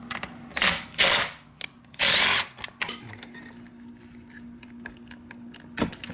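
A ratchet works loose a small 8mm bolt holding the pump on a 1994 Ford Explorer Limited, giving several short bursts of rapid clicking followed by quieter scattered ticks and taps.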